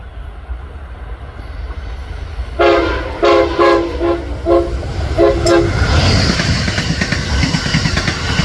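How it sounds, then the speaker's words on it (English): Amtrak Acela train horn blasting in a series of loud, harmonic pulses through a work zone at Perryville, Maryland, over steady rail rumble, with the train's roar building as it passes. "You might be wondering why they're blowing their horns so dang much."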